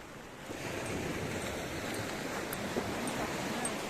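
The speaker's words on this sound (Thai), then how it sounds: "ทะเลใกล้โรงแรม น่าเที่ยวมาก" Sea waves near a seaside hotel, a steady broadband wash of surf with a soft windy hiss, moderately loud and continuous throughout, with no voices.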